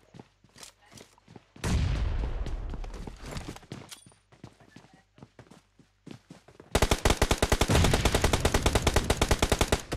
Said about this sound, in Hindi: ओके तो वापस यहाँ पे शॉट लिया गया एंड पॉली वापस यहाँ पे शॉट ले